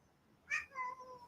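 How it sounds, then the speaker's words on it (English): A cat meows twice in quick succession, a short sharp cry followed by a longer, drawn-out one with a falling tail, close and fairly loud over a quiet room. "Sick of your meowing."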